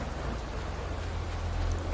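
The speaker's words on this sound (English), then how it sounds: "Oh, I love the sound of the thunder." Steady rain hisses continuously in Farming Simulator 22 on a farm map, with a low rumbling undertone suggesting thunder, holding at an even, moderate level throughout.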